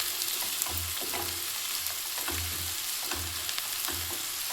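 Onion sizzles steadily in a pan as the base for pav bhaji, a close, even crackle with soft periodic stirring scrapes underneath.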